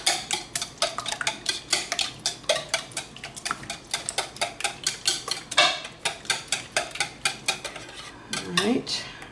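Cheesy bacon quiche filling whisked briskly in a bowl, a utensil clinking and scraping against the sides in a steady, fast rhythm, close and fairly loud with no talking.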